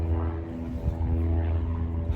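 Low, steady propeller-plane drone passes overhead outdoors, a continuous rumbling hum of moderate loudness with no voices.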